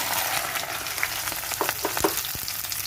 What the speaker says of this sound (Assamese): এতিয়া এইখিনি তেলতে ভেন্দিখিনি দি দিব। ভেন্দিখিনি ভাজি ল'ব।